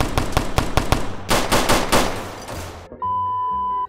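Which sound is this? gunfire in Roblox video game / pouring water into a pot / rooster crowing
gunfire in Roblox video game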